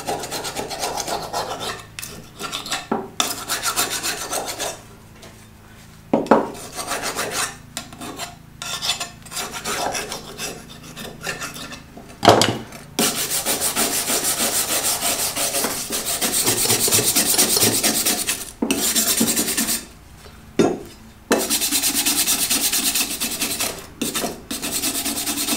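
Hand file sharpening a lawn mower blade, heard as long, loud, steady rasping strokes repeated in close succession with a few short pauses, near and with no talking.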